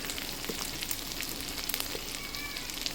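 Ginger, asafoetida and turmeric frying in mustard oil in a pan, a quiet, continuous crackling sizzle with small scattered pops throughout, heard alone.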